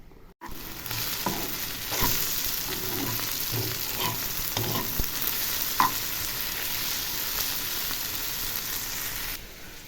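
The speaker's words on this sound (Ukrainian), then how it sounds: "Смажу цибульку." Pancakes sizzle steadily in a hot pan, with occasional scraping and clicking as they are stirred. No voices.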